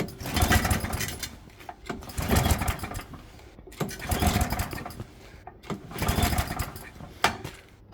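Vintage Atco Balmoral cylinder lawn mower being pull-started, four repeated rough, rattling bursts of cord pulls and sputtering engine turnover, each about a second long, close by.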